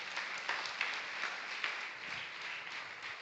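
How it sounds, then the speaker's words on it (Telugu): A church congregation at a Sunday worship service applauds, a fairly faint but steady wash of clapping with a few sharper individual claps standing out. "గట్టిగా చప్పట్లు కొడదాం."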